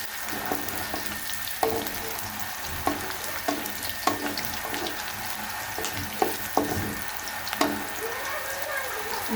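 Chopped onions fry in a pan for a winter vegetable egg korma, a steady sizzle and crackle with scattered clinks and stirring knocks, no one talking.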